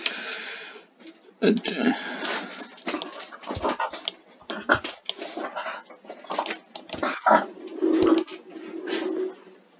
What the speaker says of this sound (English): If you hear that, that's my dog.